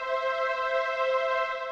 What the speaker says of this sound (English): Let's do the country harmony.